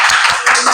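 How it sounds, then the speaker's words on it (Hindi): A group in a Hindi class claps briefly and loudly, a dense burst of hands close to the microphone that lasts under a second. "ताली बजाइए इनके लिए।"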